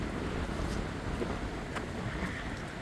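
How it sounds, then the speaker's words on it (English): Strong wind blowing across a hiking trail on the Midstate Trail, a steady loud buffeting roar against the microphone with faint gust swells throughout, no voices heard. "Well, that wind's getting strong."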